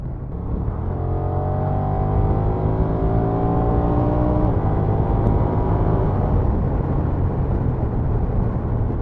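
A Honda NT motorcycle on a Spanish road pulls out to overtake, its engine drone climbing steadily in pitch through the gears with strong wind noise, loud and close throughout.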